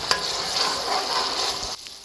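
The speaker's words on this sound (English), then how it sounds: "I'm gonna let this fry up for about a minute and a half to 2 minutes." Steady sizzling of tomatoes, onions, garlic and curry paste frying in a pot, close and even, with a brief clatter of stirring near the start and a sudden drop near the end.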